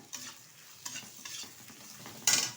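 Green chillies, slit and cut into pieces, hit a pan of already-fried onions and sizzle, with a few stirring scrapes and a sharp sizzling burst near the end; close and moderately quiet, no talking.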